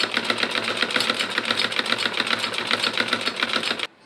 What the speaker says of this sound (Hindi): तो यहाँ पर मैंने टांका बड़ा कर लिया है मशीन का, और यहाँ मैं एक बड़ी सिलाई चला लूँगी इस तरह से